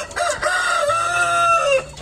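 A KUB chicken rooster crows once at close range, a loud drawn-out call rising and falling over about two seconds with faint farmyard background.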